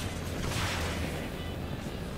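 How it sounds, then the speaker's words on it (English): Artillery fire in the video game Marvel's Avengers: a steady, loud, rumbling roar of bombardment holding for about two seconds, with no distinct separate blasts. "Their artillery's targeting you."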